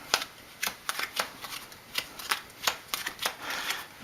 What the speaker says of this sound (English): So we go ahead and shuffle the train cards again